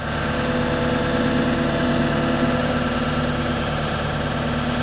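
Steady diesel tractor engine running at a constant drone with heavy vibration as the machine moves forward while digging out a crawl space, loud and close with no talk.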